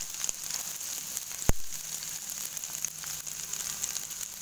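Onions frying in a pan give a soft, steady sizzle, fairly quiet and continuous, with one sharp knock partway through and no talking.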